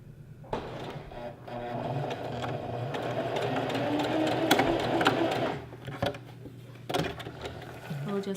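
Sewing machine stitching down the knife pleats of a maxi skirt, a close mechanical whir that runs in a few uneven stretches with short pauses and soft clicks between them.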